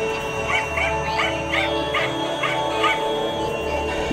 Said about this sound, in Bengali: বাড়ির পেছন থেকে কুকুরের ঘেউ ঘেউ শব্দ শোনা যাচ্ছে।